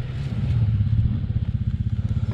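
A damaged CF Moto quad being driven, its engine chugging low and loud with a steady rapid rhythmic clatter throughout, close by with no talk.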